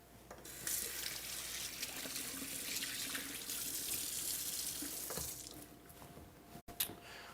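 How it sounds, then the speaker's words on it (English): Water runs from a kitchen tap during handwashing, a steady close splashing hiss that eases off near the end with a brief clunk. "let's first start off with washing our hands"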